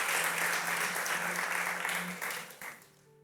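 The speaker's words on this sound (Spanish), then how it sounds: "Denle un aplauso al Señor, hermano." A church congregation applauds loudly and steadily, the clapping thinning out and fading toward the end.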